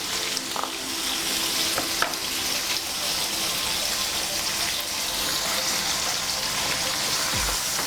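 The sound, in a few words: prawns frying in a pan with turmeric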